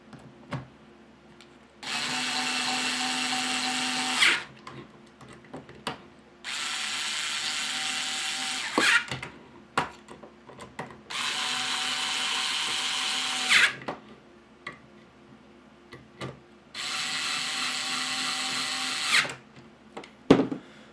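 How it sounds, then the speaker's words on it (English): A Bosch IXO cordless electric screwdriver drives screws in four separate whirring bursts of about two seconds each, with short quiet pauses between them, heard close up with no talking. "And now with the electric screwdriver."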